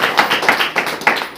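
A church congregation at a Saturday worship meeting claps hands together, a loud, fast run of sharp overlapping claps in an uneven rhythm, with no talking.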